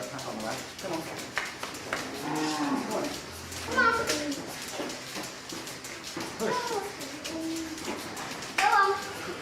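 Cattle on an organic farm moo repeatedly in long, drawn-out calls at moderate distance, mixed with children's voices and chatter throughout.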